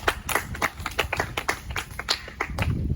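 A round of clapping for a correct quiz answer, a small group of hands clapping in quick, uneven bursts at moderate distance.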